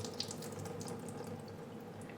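Tap water runs steadily over lentils being rinsed in a pot, draining off as a continuous, fairly quiet wash with no talk.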